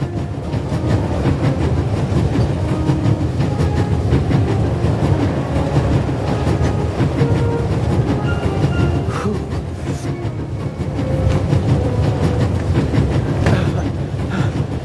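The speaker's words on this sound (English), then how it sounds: "There's nothing quite like traveling on a train." A passenger train ride in the video game The Raven Remastered: a continuous rumbling of the carriage with rhythmic wheel clatter and faint metallic squeaks, steady and close throughout.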